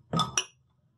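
A quick double clink, like small hard bits of roasted dry chaat masala spices tipping onto a plate to cool, close and crisp, then quiet.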